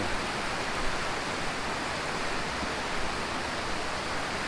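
Water flowing at Aadyanpara waterfall near Malappuram during low flow, a constant, even broadband rush with no voices.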